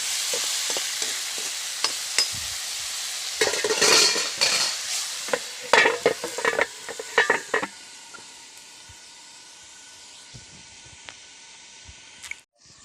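A spoon stirs a jackfruit dish with water just added in a pot close by: repeated scraping strokes and clinks against the metal, busy at first, then easing into a quieter simmer.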